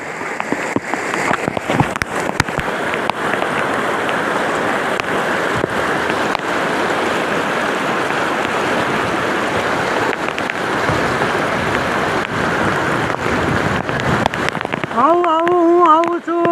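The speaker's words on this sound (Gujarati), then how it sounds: "આ મહુવા જવાનો રસ્તો છે એમની ઉપર પાણી ચડી ગયા છે" Floodwater surges over the road to Mahuva, a loud, unbroken rushing roar that fills the whole stretch, with a voice faintly audible near the end.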